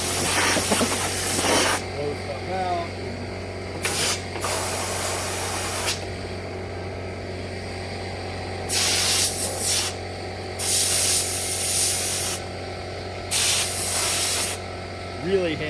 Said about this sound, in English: it's great for blowing out air cleaners and getting in here. You gotta hold it because it's a lot of pressure.